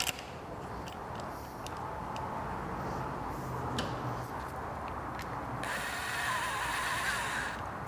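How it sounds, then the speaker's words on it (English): A power driver with its clutch set tightens screws on a Vespa topcase rack, making a faint, steady mechanical whir with sharp ratcheting clicks scattered throughout and a brighter buzz near the end. "And just kind of evenly tighten these down. I have the clutch set where it snugs those down pretty good."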